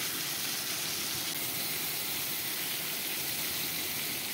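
Pieces of bhetki fish frying in hot oil give a steady, even sizzle and hiss that runs unbroken throughout, with no talk over it.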